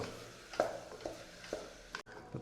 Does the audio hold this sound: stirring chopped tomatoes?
yes